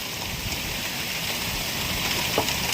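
Steady rain pouring down at a fishing pond, a continuous dense hiss of drops on surfaces, even and fairly loud with no voices.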